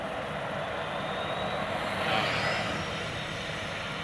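Cebu Pacific airplane taking off, a loud continuous jet engine roar heard from outside, swelling slightly midway without any talk.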